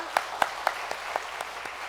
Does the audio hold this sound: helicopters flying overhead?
no